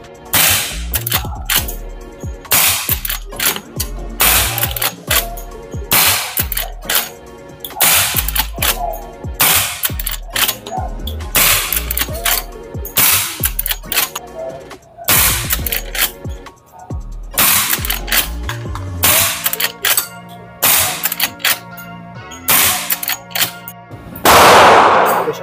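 Suppressed Marlin 1894 tactical lever-action rifle in .357 Magnum fired repeatedly, some twenty sharp cracks at a steady pace with short gaps for cycling the lever, loud and close, with no talking.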